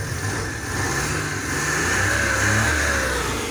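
An F6A multicab engine, just refuelled after running short of gasoline, runs at a steady, moderately loud idle with a low mechanical hum and a slight rise in revs partway through. No one speaks.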